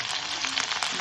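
Ginger and garlic sizzling and frying in hot oil in a cooking pan, a steady crackling hiss heard up close.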